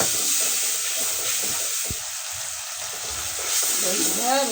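A ginger-garlic paste with turmeric, chili and a little water fries in a pan, making a loud, continuous hissing sizzle close by, with a faint voice briefly near the end.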